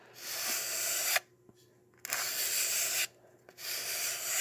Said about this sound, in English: sanding this direction across the grain